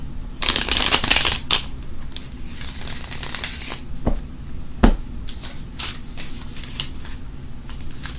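Tarot cards are shuffled up close in rapid riffling bursts with crisp flutters and slaps, separated by short pauses and a few sharp taps, and no voice over them.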